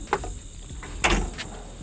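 The cab door of a Kubota SVL65-2 track loader slides open with a short mechanical clunk and rattle, two brief knocks close by over a steady background hum.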